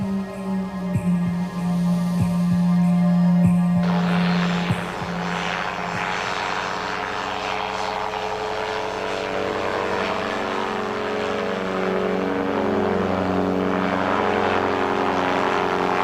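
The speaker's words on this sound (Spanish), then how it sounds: "Utilizando un pequeño motor delta con forma de cóndor, nos elevamos sobre Sacsayhuaman para mirarlo desde el aire." A small condor-shaped delta-wing motor aircraft flies above Sacsayhuaman, its engine droning in a steady buzzing tone that shifts and fades as it passes, with no talking.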